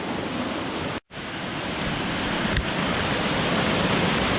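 A small waterfall cascade on Vancouver Island gives a steady, dense rush of falling water, close and constant, broken by one brief dropout near the start, with no talk.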